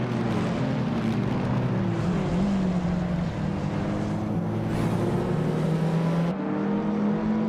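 A 1993 Lancia Delta HF Integrale, turbocharged and four-wheel drive, races in a video game, its engine a steady, close drone with small shifts in pitch and no let-up.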